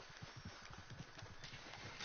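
Horse hooves clip-clop in a steady, rapid rhythm on a quiet Red Dead Redemption 2 game soundtrack, with no one speaking.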